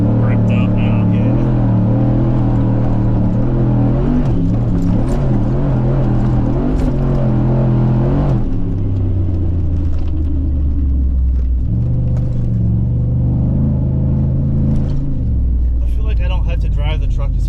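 Ford Raptor pickup with four-link suspension being driven hard off-road, a loud, close, continuous engine rumble rising and falling with throttle inside the cab, with occasional shifts in pitch and people talking over it.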